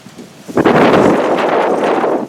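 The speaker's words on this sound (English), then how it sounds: "that wind's making it miserable" A strong gust of wind roars across the microphone at an off-grid homestead, rising suddenly and holding as a loud, broad rushing for nearly two seconds before easing.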